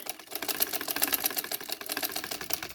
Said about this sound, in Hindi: अब इसको सिलाई लगा के तो मैं करूँगी सीधा सीधा करके